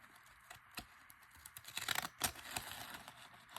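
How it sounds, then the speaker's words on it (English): Scissors trimming across the top of a paper page with a napkin on it, giving a run of crisp snipping and crinkling cuts that build toward the middle, moderately close and alone. "I'm going to trim right across the top of this page."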